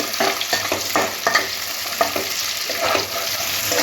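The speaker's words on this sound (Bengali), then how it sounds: "পেঁয়াজের সাথে সাথে দিয়ে দিচ্ছি এখানে সবুজ ক্যাপসিকাম আর হলুদ ক্যাপসিকাম। একসাথে হালকা করে নাড়াচাড়া করে ভেজে নেব।" Onions, green capsicum and yellow capsicum are stir-fried in a pan for chicken Manchurian, with a lively sizzle and rhythmic scraping of the stirring utensil up close. No voices are heard.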